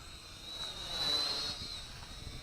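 A Syma X5C micro quadcopter on a 350 mAh battery flies nearby, its propellers giving a steady thin whine that swells a little as it passes, then settles, with no talk.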